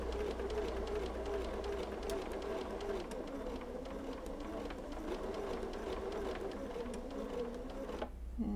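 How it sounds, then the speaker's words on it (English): A sewing machine runs slowly and steadily as it stitches a quarter-inch seam around a fabric doll panel, a soft, even mechanical whir that fades out near the end. "You just sew very slowly, 1/4 inch around the whole doll."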